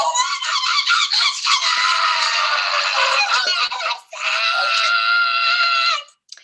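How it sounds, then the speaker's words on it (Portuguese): A loud, sustained human scream, alone and without talk, holds for about four seconds, breaks briefly, then returns for a second long cry before cutting off. "esse aqui é um grito"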